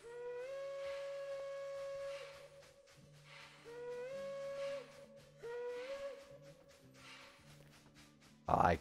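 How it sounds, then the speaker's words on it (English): Steam locomotive whistle in a train simulator game on the Loleta and Mad River line, sounding three long, steady blasts in succession over a low chuffing background, with a sharp louder burst at the very end. "I could listen to that whistle all day."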